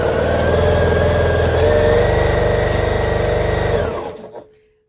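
Sewing machine stitching scrap fabric triangles for an oversized flying geese quilt block, running loud and close in a steady rapid whir for about four seconds before winding down to a stop.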